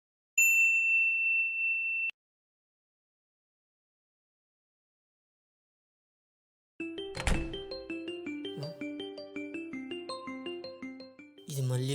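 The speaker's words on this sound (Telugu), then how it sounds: "ఇది మళ్ళీ ఫోన్ చేస్తుంది." A mobile phone rings with an incoming call indoors: a melodic ringtone of chiming, bell-like notes that starts after a long silence and keeps repeating, loud and close, following an earlier brief steady tone.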